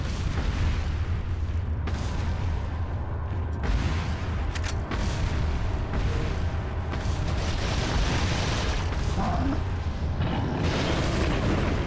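Gunfire from weapons fired in Resident Evil 4, loud and continuous booming blasts layered with mechanical clatter over a dense, steady game soundscape.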